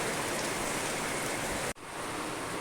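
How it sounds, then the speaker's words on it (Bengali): Heavy rain pouring during Cyclone Remal, a dense, steady hiss of water on surfaces filling the space, broken by one brief dropout before the downpour continues just as strongly. "বেশ জোরে নেমেছে এখন বৃষ্টিটা"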